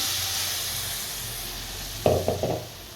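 Spinach dropped into a kadhai of hot butter with asafoetida and turmeric gives a steady hiss, then a few louder bursts of sizzling near the end, close and without speech.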